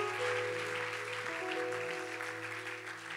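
A church congregation claps and cheers for the Lord during a sermon, a dense wash of applause under a sustained organ or keyboard chord, gradually easing off toward the end.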